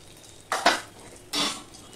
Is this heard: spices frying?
yes